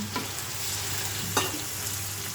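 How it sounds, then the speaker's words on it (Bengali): Bhetki fish frying with already-browned onions in hot oil in a pan, a dense continuous sizzle with a couple of sharp stirring scrapes, close and steady. "মাছটা আমি দিয়ে দিলাম পেঁয়াজটা ভাজা হয়ে গেছে অলরেডি"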